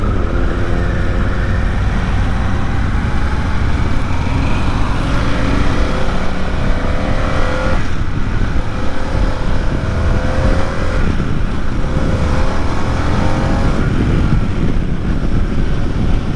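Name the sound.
Harley-Davidson Pan America motorcycle accelerating at top end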